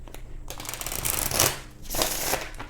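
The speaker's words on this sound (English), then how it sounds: "This deck doesn't want to shuffle for me." An oracle card deck is shuffled up close and quietly, in two short riffling bursts separated by a brief pause.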